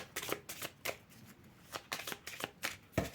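A deck of playing cards is shuffled repeatedly, with quick riffling bursts and soft flutters in an irregular rhythm, close by and fairly quiet, no voices.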